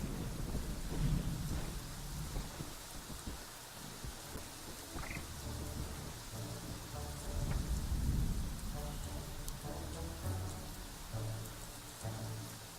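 Thunderstorm with steady rain in the park-building game Prehistoric Kingdom, a soft wash of falling rain with low rolling thunder rumbles swelling near the start and middle, fairly quiet and unbroken by speech.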